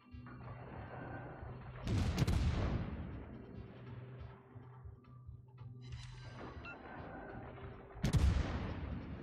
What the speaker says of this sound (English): Oh, that was the Yamato shot.